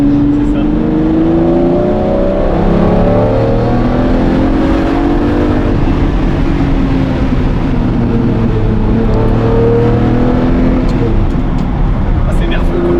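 Lamborghini Murciélago LP-580 with a V12 and manual gearbox, heard on the move as the engine revs and the pitch climbs and falls repeatedly, loud and continuous from inside the car.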